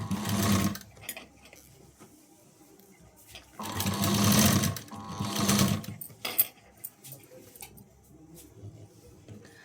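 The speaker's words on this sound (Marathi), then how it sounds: "इथे मी शिलाई घेत आहे" A sewing machine stitching fabric piping runs in loud mechanical bursts, two long runs and a short one, separated by quiet pauses with small clicks and handling noises.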